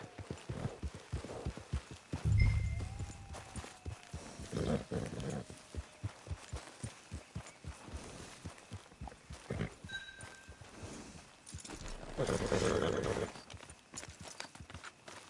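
Horse hooves in a PS4 video game clip-clop at a steady walking rhythm, fairly close, with occasional snorts and faint background voices.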